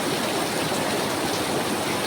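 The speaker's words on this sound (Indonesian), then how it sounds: "turunnya hujan pada sore hari ini" Afternoon rain falls in a dense, steady hiss, loud and close with no pauses, and nobody speaks over it.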